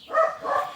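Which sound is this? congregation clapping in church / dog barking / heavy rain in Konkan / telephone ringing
dog barking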